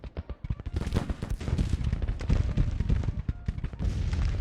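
Civil War video game battle with artillery and musket gunfire: a dense, irregular barrage of sharp shots and deeper booms, some close and loud, others overlapping in rapid volleys.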